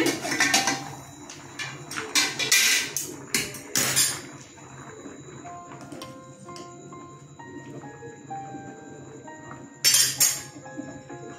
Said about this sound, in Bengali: আমি এবার ঢাকনাটা খুলছি।